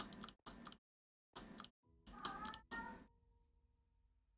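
A house cat meows in a string of short, close calls with brief gaps between them, ending in a longer, drawn-out cry that fades away; quiet overall.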